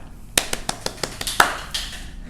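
Children in a Sunday-school-style lesson clap their hands, a quick run of about eight sharp, separate claps at a near distance, slightly uneven in rhythm, with no talking over them.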